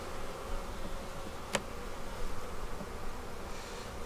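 Honeybees hum in a steady low drone during a beehive inspection, close and continuous, with one sharp click partway through and no talk.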